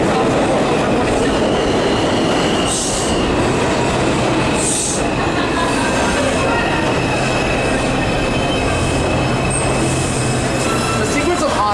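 A New York City subway express train rushes past at close range, a loud continuous roar of wheels and rail noise with brief squeals and rhythmic clatter, while people talk faintly beneath it.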